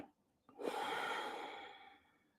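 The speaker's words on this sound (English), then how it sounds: "And then we're breathing out." A single long breath out during a guided breathing exercise, a sudden airy exhale that swells, then slowly fades over about two seconds, close and clear with no talking.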